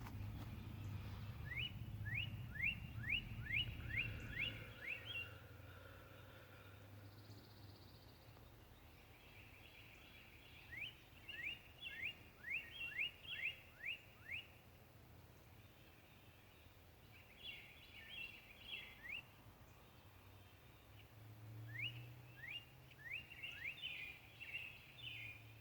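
Birds chirping outdoors, faint and distant, in recurring bursts of quick rising chirps spread through the scene, with low background rumble early on.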